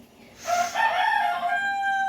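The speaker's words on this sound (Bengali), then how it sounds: "মুরগিগুলোর জন্য এত পরিমাণে ডাকে" A rooster crows once nearby, loud and drawn out, among chickens at a home poultry setup, with faint background noise and no talk.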